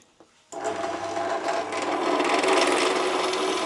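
A Dtech 13 mm 450 W drill press starts abruptly and drills into a workpiece with a loud, steady, grinding whir that builds slightly and continues without talk.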